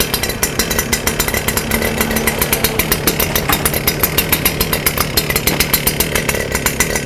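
A Stihl FS 250 brush cutter with a 40 mm shaft runs its small two-stroke engine steadily at high idle, a loud, close, buzzing drone with a rapid even pulse and no talk.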